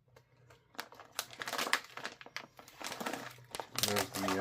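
A bag of Tasto spicy ridge-cut potato chips crinkles loudly up close in bursts as it is handled and turned, with a voice speaking over parts of it.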